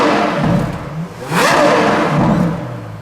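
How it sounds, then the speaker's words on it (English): A Ferrari LaFerrari's engine revs hard through its exhaust, rising to a loud, close wail in the middle and settling back to a strong, steady roar on either side, with no voices. "That is a seriously impressive exhaust note"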